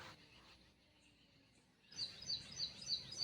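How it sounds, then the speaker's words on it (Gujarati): Near silence, then a small sparrow chirps in quick, high, repeated bursts through the second half over a faint background hum in a village. "પક્ષીઓનો અવાજ સાંભળીએ તમે જોઈ શકો છો એક નેની સી ચકલી"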